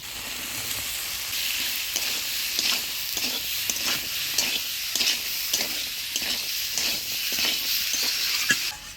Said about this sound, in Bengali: মশলার সাথে আলু মটরশুঁটি দিয়ে নাড়াচাড়া করে নিলাম।